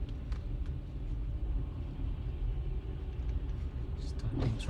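A car driving through traffic in a snowstorm in Mississauga, heading from Matheson Blvd toward Brampton; a low, steady engine and road rumble fills the cabin, with faint talk in the background near the end.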